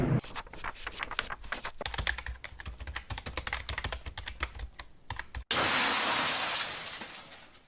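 Fast, steady typing on a Bastron glass touch keyboard, a dense run of close clicks and taps for about five seconds, then cut off by an abrupt, loud, sustained hiss-like burst.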